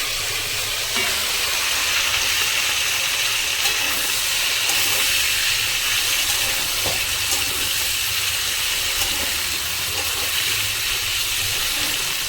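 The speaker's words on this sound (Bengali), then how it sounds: "কাঁচা লঙ্কা দেওয়ার পরও ভালো করে ভাজতে হবে" Potatoes, pointed gourd and slit green chilies fry in oil for a thin katla fish curry, producing a continuous loud hiss and sizzle with occasional crackles and no talking.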